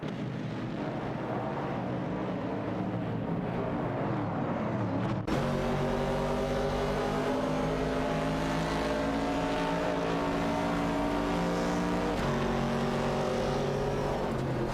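Chevrolet Camaro 69 and Plymouth Barracuda cars racing in an AI racing video game, with loud sustained engine drone that shifts pitch midway as revs climb, steady and continuous with no pauses.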